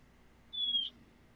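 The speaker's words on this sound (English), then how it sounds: "There's a whistling. Oh, it's probably birds." A single thin, high whistle, likely a bird outside, sounds once for about a third of a second, faint against a quiet indoor hush.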